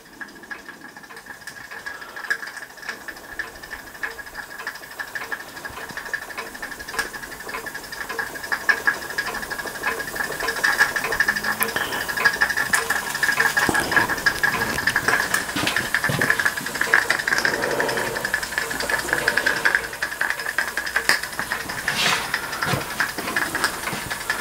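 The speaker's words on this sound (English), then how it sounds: "safety valve's just beginning to blow off, which I'm really pleased about because I had to make the inner of the safety valve" A scratch-built steam engine runs with a steady mechanical churn, and its safety valve hisses as it begins to blow off. The sound is continuous, grows louder after the first few seconds, and runs with a sustained tone throughout.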